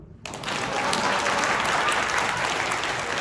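Audience applause at a business training seminar bursts in sharply after a brief pause, then holds as a steady, dense clapping from a large crowd, fairly close and loud throughout.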